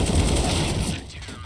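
Gunfire in the video game Counter-Strike: Global Offensive, a dense burst of rapid shots packed close together and loud across the whole stretch, with a little commentary voice mixed beneath.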